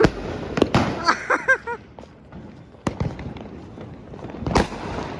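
Several sharp Diwali firecracker bangs burst out at irregular intervals, loud and close, with crackling pops and excited voices between them.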